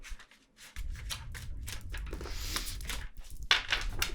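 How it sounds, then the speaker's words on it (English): Mermaid Tarot cards are shuffled close up in a soft, continuous papery riffle and rub with a few sharper slaps of cards, fairly quiet and with no talking over it. "I try to shuffle on camera"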